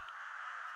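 A single crow-like caw from a flock of spooked birds in the video game Hunt: Showdown, one harsh, drawn-out call heard alone and at a distance.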